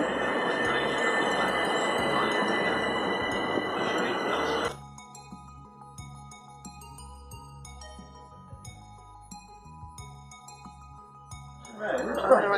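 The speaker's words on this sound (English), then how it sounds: "Train now approaching platform." At a railway platform, a train rumbles in with broad roaring noise that cuts off suddenly, followed by a quieter stretch of chiming electronic tones and low hum before the rumble returns.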